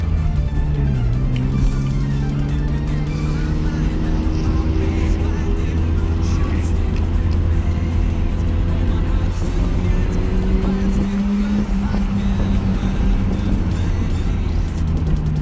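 Mazda RX-7 FC3S rotary engine pulling hard on a track with Miatas close behind, loud and steady in-cabin, pitch climbing in long sweeps and dropping at each gear shift, with faint talk.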